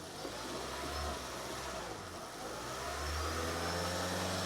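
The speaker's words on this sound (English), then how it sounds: "So engine is running." A Toyota Prius engine runs while restarted with a check engine light and an O2 sensor stuck at zero, giving a steady, close, low hum with a slight rise in intensity partway through.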